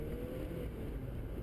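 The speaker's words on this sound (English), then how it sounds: "so I'm going to do an acceleration run here" A Porsche 944 S2 cabriolet engine, warmed to operating temperature, pulls steadily under acceleration on an open road, a constant deep drone heard from inside the car with no voices.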